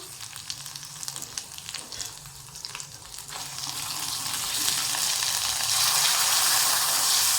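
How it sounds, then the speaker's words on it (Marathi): Masala paste of onion, coconut, poppy seed, ginger-garlic, turmeric and chilli fries in oil with mustard seeds, a soft crackle that swells into a louder, steady sizzle over the seconds, with no voices. "मसाल्यातून तेल सुटेपर्यंत आपल्याला मसाला शिजवून घ्यायचा आहे"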